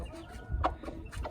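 Chickens in a coop with freshly wetted soil, giving short soft clucks in a couple of brief bursts, close and moderately loud.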